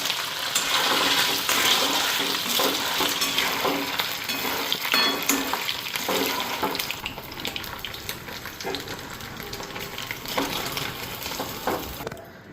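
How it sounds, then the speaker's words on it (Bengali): Paneer pieces frying in hot oil in a pan give a steady, close hiss and sizzle that slowly eases off, with occasional stirring clatter and no voices. "তো এখন এখানে ফ্রাই করে নিই পনিরগুলি।"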